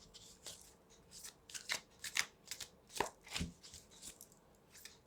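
Tarot cards are shuffled close up, a run of soft crisp riffles and flicks in an uneven rhythm, quiet and alone without talk.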